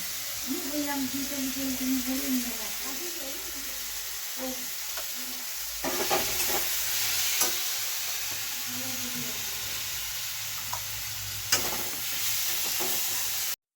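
Food being stirred and fried in a pan in a home kitchen, a steady sizzle with scraping strokes and occasional clinks throughout, heard fairly close with no one talking.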